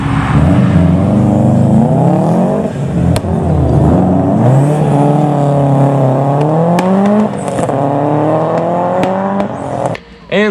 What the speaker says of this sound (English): I'll put in a clip of the famous Subi Rumble